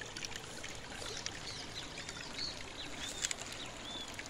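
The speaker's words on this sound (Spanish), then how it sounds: "Y ahí cae el agua" Spring water at San Pedro de Colalao falls and flows toward a river, making a soft, continuous trickling and splashing wash, with faint bird chirps over the water.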